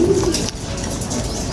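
Racing pigeons from Stitch, Florison and Crack 52 bloodlines coo steadily and up close after a hard derby race, a low throaty murmur that runs continuously without pause.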